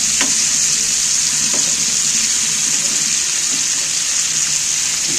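Chicken pieces sizzle steadily in a hot pan, a loud continuous frying hiss with faint clinks of turning the meat, no talk.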